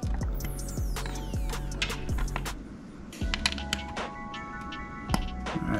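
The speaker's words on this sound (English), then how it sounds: "I'm gonna come back and tighten this one just a little bit more" A ratchet tightens a bolt on the upper and lower grill of a Can-Am Maverick X3. Repeated clicking pawl strokes come in bursts, close and distinct, mixed with metallic clinks.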